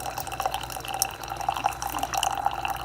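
Sboly single-serve coffee maker with a ground coffee basket dispensing hot water, a steady close trickle and drip of liquid with a faint hum underneath, continuous and alone without talk.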